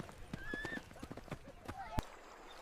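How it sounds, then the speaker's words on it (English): Hooves strike hard earth at a Comanche camp on the southern plains, a quiet run of soft, irregular clip-clop thuds under a steady background hum, with one sharper knock near the end. "Hooves strike the hard earth."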